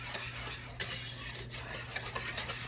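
Homemade vanilla pudding for old-school banana pudding cooks in a pot on the stove, with a steady low hum and a few soft scraping stirs and light utensil taps against the pot.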